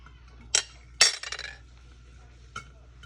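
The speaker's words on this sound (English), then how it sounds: "Take out a spoon for this." A metal spoon clinks against a pot, with a sharp tap, then a quick cluster of scraping rattles, and one last lighter clink, close and clear in an otherwise quiet kitchen.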